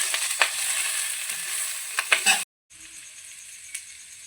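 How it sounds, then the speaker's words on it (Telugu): Boiled potatoes stirred into hot oil in a pan for a potato and drumstick-leaf curry, giving a close frying sizzle with scraping stirs that stops briefly before a thinner hiss resumes. "ఉడికించుకున్న పొటాటోస్ని అయితే ఇందులో వేసుకుందాం అంతా కలిసే విధంగా కలుపుకోవాలి"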